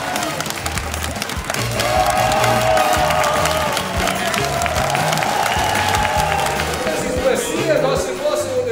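A studio audience at a sitcom taping claps and cheers loudly during the warm-up, a dense sustained roar of applause and crowd voices that swells after the first second and holds steady.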